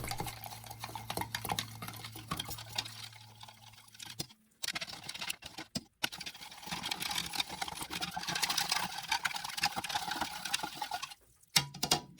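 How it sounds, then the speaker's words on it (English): A black powder and water mixture for slowmatch is stirred in a container, with close scraping and swishing strokes in bursts broken by short pauses. "So let's give this a good stir."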